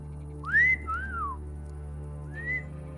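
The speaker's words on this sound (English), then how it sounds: "The man who whistles at your equipment" A man whistles short rising and falling notes in an ATOM RPG video game scene: a swooping two-part whistle, a pause, then a single rising note, clear over a low steady hum.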